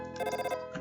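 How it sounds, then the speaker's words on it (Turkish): A telephone rings in the game Undertale, one short electronic trill that pulses rapidly for about half a second, then a softer tone follows. "Telefon."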